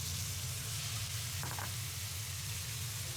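Beef and red peppers sizzle steadily in a hot stir-fry pan, a constant close frying hiss with a brief scrape of stirring partway through.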